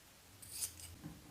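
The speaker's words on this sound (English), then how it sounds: "Trim the bottom corners of the seam allowances for both the front and back facing." Scissors snip through the seam allowance corners of a knit tee's front and back facings, one crisp cut near and fairly faint, with no voices.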